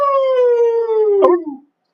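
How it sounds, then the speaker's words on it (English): A recorded dog-like animal howl, one loud, close, drawn-out cry that starts high and slides gradually downward, breaking into a brief rough yelp near the end before cutting to silence. "It sounds like a dog at first, and then it goes ow like that, and then it goes ow"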